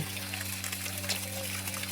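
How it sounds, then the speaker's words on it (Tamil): Water pouring steadily from a borewell into an irrigation channel on a farm near Kodiveri, Sathyamangalam, Erode, heard as a continuous close gush over a low steady hum. "போரும் ஊற்றுது கிணத்துலேருந்து தண்ணி பாசனத்துக்கும் போகுது"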